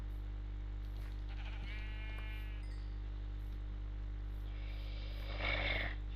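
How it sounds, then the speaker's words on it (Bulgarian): A sheep bleats once in a video game, a short wavering call rising over a constant low electronic hum. A fainter clink and hiss follow near the end. "Една овца."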